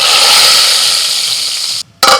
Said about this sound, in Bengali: এবার খিচুড়ির মধ্যে ঢেলে দিচ্ছি।